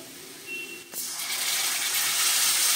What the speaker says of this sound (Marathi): त्याच्यामध्ये मी आता अर्धी वाटी पाणी टाकणार आहे।